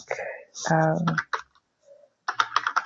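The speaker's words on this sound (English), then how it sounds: "Super exciting watching me type." A person types on a computer keyboard in short bursts of close, crisp key clicks, with talking between the bursts.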